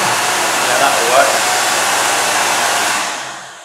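An electric hand dryer roars loudly in a public toilet, a constant close blast of air that runs steadily and then fades away near the end.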